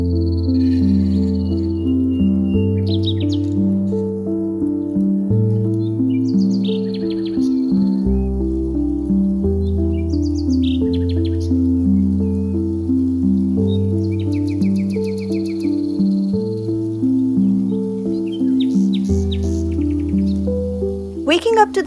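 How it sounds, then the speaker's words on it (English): Morning birdsong at a resort in Ella, Sri Lanka: scattered chirps and short trills sound in bursts over a steady musical backdrop, moderately loud and fairly near. "Waking up to the sound of birds instead of alarms?"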